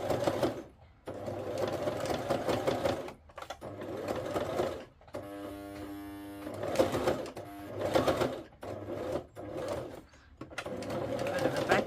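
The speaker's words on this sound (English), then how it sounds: "Bit of a back stitch." A sewing machine stitching through a thick journal, running in repeated bursts of rapid mechanical whirring separated by short pauses, with a brief slower back stitch in the middle.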